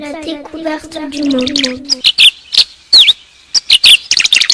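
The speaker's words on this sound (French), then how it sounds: "Ah, Petite Colombe, mon bel oiseau siffleur, pourquoi t'es-tu enfuie?" A voice hums or speaks briefly, then a series of sharp, bright bird chirps and whistles follows in quick, irregular bursts, close and clear.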